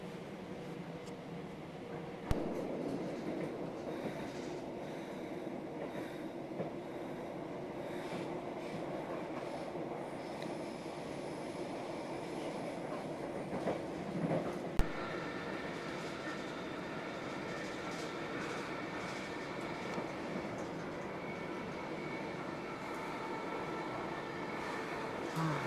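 Steady rumbling hum inside a moving British rail train carriage, with rhythmic rattling of the wheels on the track and occasional clunks.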